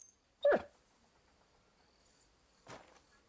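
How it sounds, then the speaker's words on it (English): A dog in the video game Kingdom Come: Deliverance 2 gives a short whimpering yelp, then a softer second whine a couple of seconds later, over quiet chirping crickets in the background. "Hey doggy, are you hungry? Take it."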